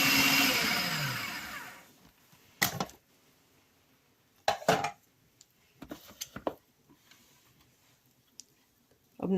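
A blender's motor whirs loudly grinding vegetables, then winds down to a stop, followed by scattered clinks and knocks of the jar being handled.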